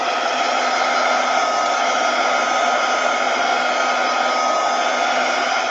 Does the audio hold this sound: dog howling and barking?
no